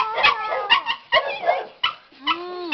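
A dog barks and yips several times in short, separate bursts, close and fairly loud, with brief gaps between.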